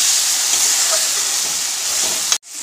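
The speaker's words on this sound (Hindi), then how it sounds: "अब इसको अच्छे से भून लेती हूँ मसाला को" Ginger-garlic paste and masala frying in a pan give a steady, close sizzling hiss that cuts off abruptly near the end.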